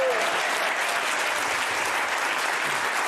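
An audience at a boxing event gives a world champion boxer steady, loud applause. The clapping is continuous and fills the whole stretch, with a little crowd noise underneath.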